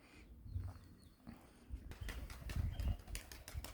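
A young pigeon, its wings not yet fully grown, flaps and takes off: quiet soft rustling at first, then a run of faint, rapid wing flutters in the second half.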